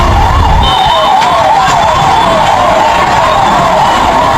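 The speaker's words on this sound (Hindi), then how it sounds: "जंग से डिस्चार्ज हुए एम्बुलेंस आप देख रहे हैं जो मेदांता के लिए निकली" An ambulance leaving for Medanta hospital sounds its siren, a loud, continuous wailing tone that rises and falls steadily throughout, with traffic rumble underneath and no talking.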